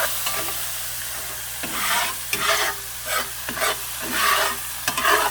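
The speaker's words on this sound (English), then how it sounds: "you want to scrape your pan because you want to get them little stuffing bits up in there too" A pan with water added is scraped to loosen stuck stuffing bits, giving a continuous bubbling sizzle and several longer rasping scrapes that surge and fade close by.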